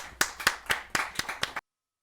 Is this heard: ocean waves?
no